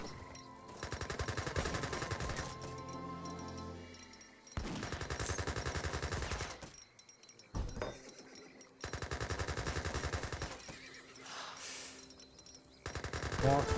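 Sharpshooters and Gatling guns firing in Age of Empires 3, dense rapid bursts of gunfire in several volleys separated by short gaps, loud and close, with brief quieter battle sounds between.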